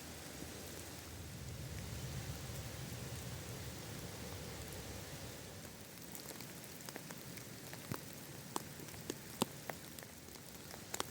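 Steady rain falls in a forest near Merlimont on a hiking trail, a dense continuous patter with sharper drips landing close by toward the end, no one speaking.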